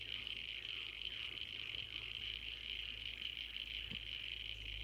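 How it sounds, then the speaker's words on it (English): Frogs and crickets call together in an unbroken, steady high trill from the bush, an even chorus with no pauses, heard quietly at night with a low rumble underneath from a truck working on the road nearby. "they sound like a combination of frogs and crickets."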